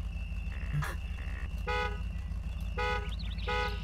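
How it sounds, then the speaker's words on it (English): A truck horn in the video game MudRunner sounds in short repeated toots, two longer blasts standing out over a low, steady engine hum at moderate volume. "do you hear me honking?"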